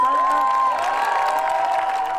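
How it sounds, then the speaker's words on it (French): A scout jamboree audience claps and cheers, with high children's voices whooping and shouting over continuous applause in a lively outdoor crowd. "Vous pouvez les applaudir bien fort."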